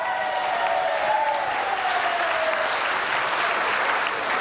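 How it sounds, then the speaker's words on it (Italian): Applause from an audience at a lodge gathering during a trip to Montreal, Canada, steady dense clapping sustained throughout with a faint whistle-like tone at the start. "Un grande applauso a tutti quelli che hanno fatto quel viaggio di 12 anni in Africa."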